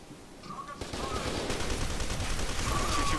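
Heavy gunfire in the first-person shooter F.E.A.R. 2 Reborn, starting quietly and swelling after the first second into dense, continuous bursts, with a voice faintly mixed in.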